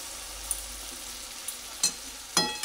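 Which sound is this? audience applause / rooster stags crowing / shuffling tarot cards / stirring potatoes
stirring potatoes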